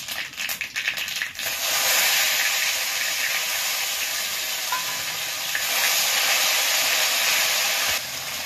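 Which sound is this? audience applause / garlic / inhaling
garlic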